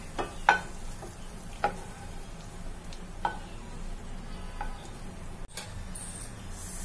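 Raisins fry in a kadai with a faint, steady sizzle and a few soft pops and ticks, heard alone without talk.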